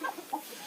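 Rooster of unknown breed at a small family farm, giving a few short clucking calls close to the microphone, spaced irregularly over less than a second.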